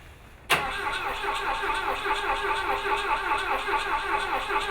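After a brief quiet moment, a car engine cranks while trying to start. The starter whirs loudly and close by with a steady, rhythmic pulsing that continues to the end.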